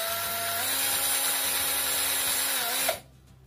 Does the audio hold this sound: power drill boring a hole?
yes